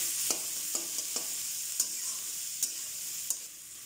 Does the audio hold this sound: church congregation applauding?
no